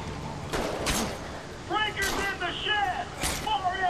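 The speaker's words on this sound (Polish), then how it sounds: "Słyszę strzały." Gunshots crack out in The Walking Dead: Survival Instinct video game, a few sharp bursts spaced across a few seconds, mixed with game effects and a player talking over them.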